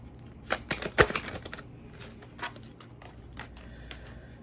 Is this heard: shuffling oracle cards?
yes